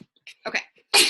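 A man sneezes once, a sudden loud burst after a few quiet words and faint movement sounds, close to the microphone.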